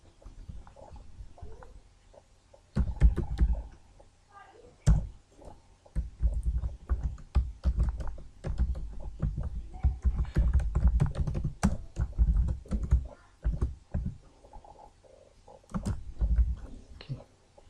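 Java code being typed on a computer keyboard: rapid, irregular clusters of close, crisp key clicks and thuds with short pauses between bursts, played alone without talk.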